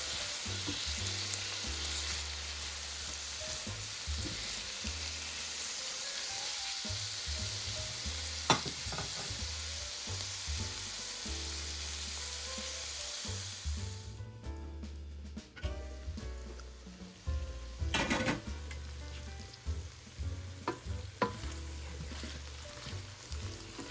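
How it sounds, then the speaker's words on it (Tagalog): Tomatoes sauté in a pan for ginisang ampalaya, giving a steady close sizzle and crackle throughout. Occasional stirring scrapes and clinks come through, mostly near the end. "Lutuin naman natin yung kamatis."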